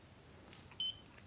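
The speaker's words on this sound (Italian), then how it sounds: "Quindi io se sono su un circuito, anche senza guardare, col solo bip capisco che c'è un diodo." A DM40C 3-in-1 multimeter in diode test mode gives a short, high electronic beep, a brief quiet chirp close by in an otherwise hushed setting.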